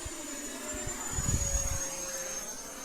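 A T-45 jet engine powering back up, a steady high whine with a lower hum and a brief rumbling swell in the middle, held at an even, moderate level throughout.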